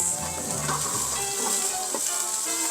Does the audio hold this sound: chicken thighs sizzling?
yes